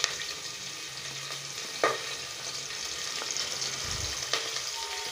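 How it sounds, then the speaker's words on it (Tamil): Sliced onions sizzle steadily in a hot pan, a soft continuous crackle with occasional scrapes and clinks of a spoon stirring them, fairly quiet and close. "நீட்டு வாக்கில் கட் பண்ணி வச்ச வெங்காயம் நல்லா கலந்து விட்டுப்போம்."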